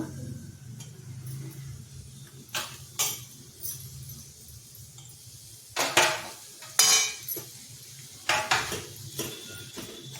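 Boiled potatoes being mixed and mashed in a pan with a metal spoon, irregular clinks and scrapes of metal on metal over a quiet background hum, with no voices.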